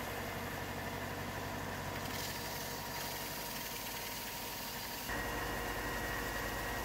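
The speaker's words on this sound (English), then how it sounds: "To sand the wedge, I mark witness lines to show where I've removed material on the belt sander" A belt sander runs steadily while a wooden wedge for guitar lutherie work is pressed against the belt, giving a constant close motor drone with broadband grinding that grows slightly louder and brighter partway through.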